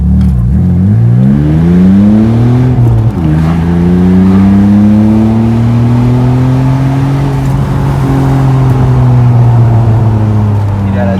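A tuned BMW 330Ci, Stage 1+++, accelerating hard from a standstill toward 90 km/h, its engine roaring loud and close from inside the car as the revs climb, drop at a gear shift, then climb again.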